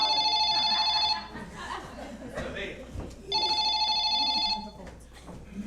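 An old-style telephone bell rings in two bursts during a live café-theatre stage performance, loud and close, with audience chatter and laughter in the gap between rings.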